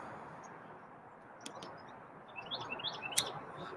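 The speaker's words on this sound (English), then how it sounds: "Love Redwing Blackbirds." Red-winged blackbird calls, a few short whistled and trilled notes rising toward the end over a low background rumble, fairly faint and not far off, with a couple of sharp clicks.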